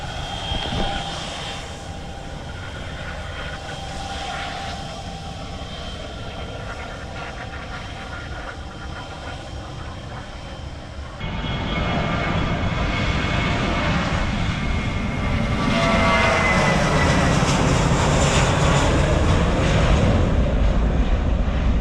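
A JetBlue jet airliner's engines rumble and whine steadily while taxiing, then swell louder and rise in pitch as it powers up and accelerates away on takeoff.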